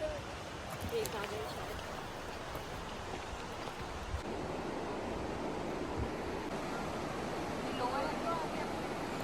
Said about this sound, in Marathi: इथून दोन दोन वॉटरफॉलचं पाणी येतं आणि ते दोन वॉटरफॉल बनवून एक नदी बनते आणि पुढे वाहत जाते